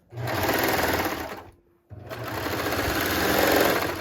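A sewing machine stitching the side seam of a shirt runs in a fast, steady close-up whir, pauses briefly for about half a second, then resumes running loudly to the end.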